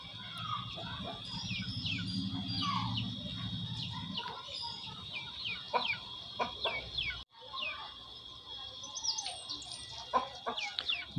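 Domestic chickens cluck and call near a home in the evening, with several short, scattered clucks and a few louder calls over a low rumble that fades partway through, and no speech.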